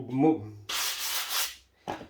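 A small sanding block rubbed briskly across a coated surface between layers of finish, giving a dry, hissing scrape of about a second, a brief pause, then a shorter stroke; a faint voice-like murmur is heard just before.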